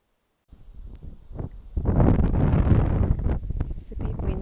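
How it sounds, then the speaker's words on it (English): Wind gusts and rumbles steadily outdoors beside a river in the rain, a broad blustery roar that swells after a short quiet start and stays loud throughout, with faint rustling mixed in. "It's a bit windy."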